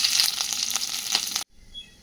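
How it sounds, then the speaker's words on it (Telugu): A pan sizzles loudly as black gram lentils, curry leaves and dried red chillies fry in oil, with some stirring, then the sizzle abruptly cuts to near silence. "స్టవ్ వెలిగించుకొని బ్యాండీ పెట్టుకొని మినపప్పు కరివేపాకు రెండు ఎండుమిరపకాయలు"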